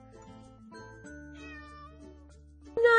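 A cat meows repeatedly with drawn-out, wavering cries, ending in a sharper, louder yowl.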